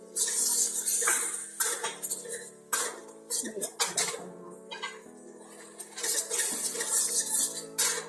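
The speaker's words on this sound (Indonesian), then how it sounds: "Kita masukkan bumbu yang sudah dihaluskan" Ground spice paste hitting hot oil in a pan while a metal utensil stirs and scrapes it, giving a steady sizzle broken by clinks and scraping strokes.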